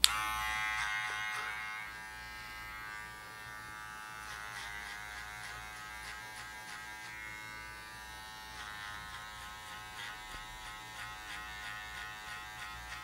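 An electric hair clipper shaving hair for a mid fade, a close, steady high-pitched buzz that shifts slightly in tone as it moves over the head, with no speech.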